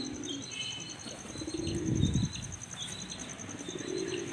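Domestic pigeons, including white racers, coo in low, soft repeated calls, with faint chirps and a steady high insect-like tone behind them.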